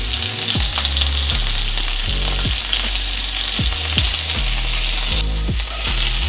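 Asparagus with salt, black pepper and lemon pepper sizzles loudly in a pot on the stove. The frying hiss is steady and close, with repeated scraping stirs as the spears are tossed.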